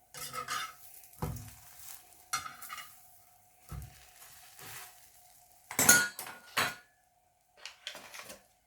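Toasted bread slices flipped in a pan with a spatula: a few distinct metallic scrapes and clinks spaced apart over quiet gaps, with a faint sizzle underneath.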